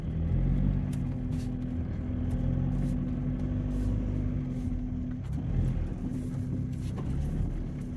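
A car from a classic car gathering drives along slowly during a first driving lesson, a low steady engine rumble with road noise, close and continuous, with a slight rise as it pulls along.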